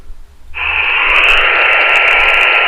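A Baofeng UV-5R Mini handheld radio receives, bursting in after a quiet moment into a loud, steady hiss of static noise that holds to the end.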